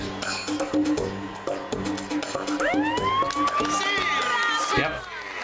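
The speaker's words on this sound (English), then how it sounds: "I think it starts with a siren." A rising siren wail in the video game Nancy Drew: The Phantom of Venice sweeps upward and holds, heard over music with a steady beat and crowd noise in the background.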